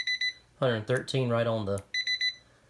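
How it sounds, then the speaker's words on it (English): A cooking timer on a rechargeable battery-powered lunchbox beeps in short rapid bursts, first alone, then after a pause while a person talks, then again briefly at the end. "There goes the timer."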